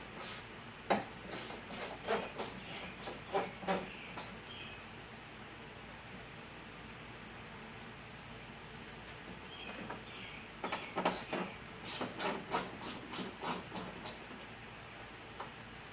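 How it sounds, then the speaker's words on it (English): A socket wrench ratchets in quick bursts of ticking clicks as 7mm bolts are backed out on a 1988–98 GM truck door, with a quiet pause between two close, faint runs. "Just going to start by going around and pulling off all these 7mm bolts."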